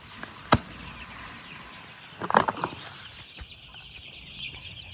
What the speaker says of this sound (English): Have you ever seen so many chickens ready to eat?